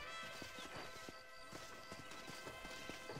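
Hoofbeats of a horse arriving after a whistle in the video game Red Dead Redemption on Xbox 360, a steady run of clip-clop thuds lasting the whole stretch, set within a dense, loud game soundscape.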